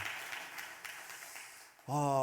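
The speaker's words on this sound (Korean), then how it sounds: "축복하면서 다시 한번 박수 하시겠습니다." A church congregation at a Sunday worship service gives a soft, diffuse wash of applause that fades out, and then a voice starts up right at the end.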